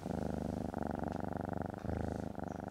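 A cat purrs close and steady, a continuous rhythmic rumble with regular breathing pulses and no other sounds around it.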